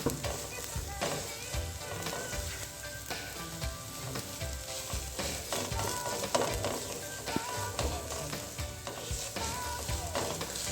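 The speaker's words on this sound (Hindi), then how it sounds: "बंद गोभी को हम इसलिए थोड़ा सा इसके साथ भूनेंगे" Shredded cabbage fries in a pan for an aloo gobhi samosa filling, giving a dense, continuous sizzle with scattered stirring clatter and crackle throughout, no voices.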